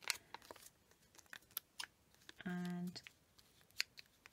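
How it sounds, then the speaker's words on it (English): Scissors cutting a strip from a coffee bag, a series of crisp snips and crinkles of the bag material, close and quiet, with a brief tonal hum partway through. "so I'm just going to cut cut a strip there"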